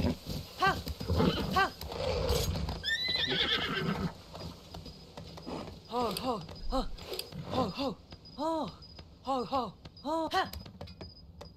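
A horse in the video game Zelda: Tears of the Kingdom gives repeated whinnying neighs at close range, with hoof clip-clops between the calls and a few other game sounds underneath.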